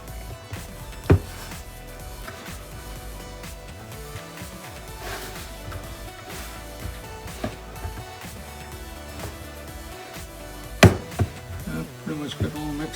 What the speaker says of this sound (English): Keep mixing it until it's all kind of all stuck together